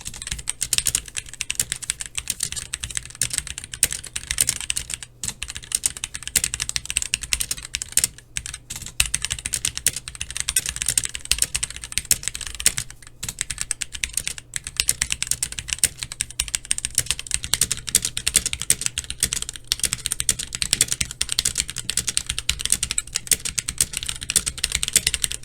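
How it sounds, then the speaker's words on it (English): A Womier K66 mechanical keyboard with Gateron Red linear switches is typed on steadily for about twenty-five seconds, a close, continuous patter of key clacks with occasional heavier spacebar thumps and no talking. "Now I'm going to do a sound test on this keyboard with the Gateron Reds."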